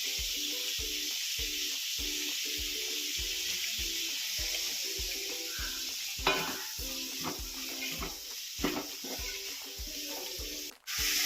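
Sliced onions sizzle with salt in a pan for beef curry, with a constant frying hiss and evenly spaced scraping strokes of a spoon stirring close by.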